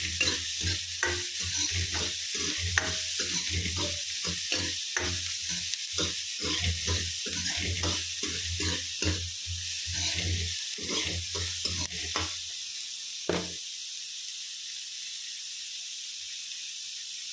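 Food frying in a pan is stirred briskly, with rapid scraping strokes over a steady sizzle for about twelve seconds. Then the stirring stops, the sizzle fades to near silence, and a single clink sounds near the end.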